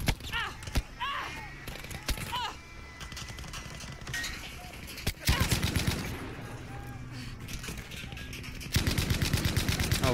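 Battlefield V gunfire, sharp shots and bursts of rapid automatic fire recurring throughout, loudest in the second half, with some in-game mechanical noise and a voice speaking in places.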